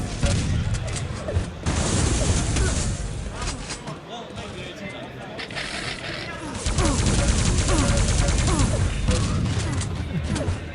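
Rapid shotgun blasts and other weapon fire ring out during a team deathmatch in Quake Live, dense and loud throughout, with commentators talking over the action.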